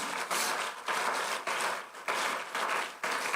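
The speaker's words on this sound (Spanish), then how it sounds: "Yo le daría un fuerte aplauso al Señor Jesús" A church congregation applauds the Lord Jesus during a sermon, a broad, steady wash of many hands clapping that swells in several rhythmic surges and fills the room without talk over it.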